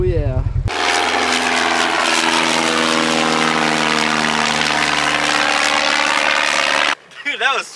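A low-flying propeller airplane passes over a lake with a loud, sustained engine drone whose pitch shifts as it goes by. Voices talk briefly before and after the pass.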